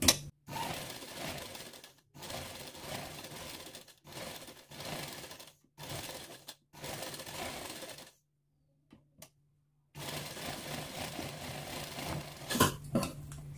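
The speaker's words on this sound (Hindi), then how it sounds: "अब देखिए, इस पर सिलाई लगाना है।" Sewing machine stitching fabric, running in several loud bursts of steady mechanical whirring separated by brief pauses and a longer quiet gap before stitching resumes.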